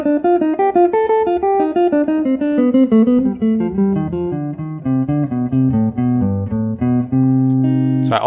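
An electric guitar playing a melodic minor scale in melodic thirds, a steady stream of clean plucked notes stepping up and then back down, close and alone, ending with a brief pick noise.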